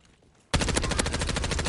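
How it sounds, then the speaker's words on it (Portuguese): Silence broken by a sudden loud burst of rapid automatic gunfire in a video game that continues steadily, sharp and close, with no talking. "Um tiro."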